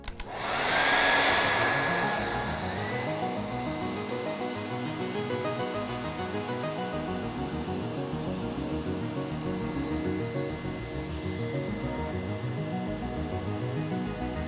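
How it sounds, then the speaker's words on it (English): A hair dryer blows continuously with a loud, steady whoosh and a whining motor hum that rises briefly at the start, then holds steady throughout. "So all I have is a hairdryer"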